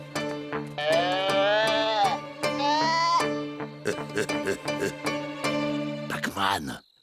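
Sheep bleat loudly in quavering, drawn-out calls over a musical backing, with other cartoonish sound effects mixed in, from a Lucky Luke cartoon.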